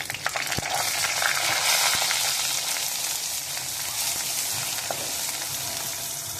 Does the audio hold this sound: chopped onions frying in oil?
yes